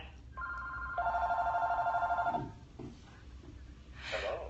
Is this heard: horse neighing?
no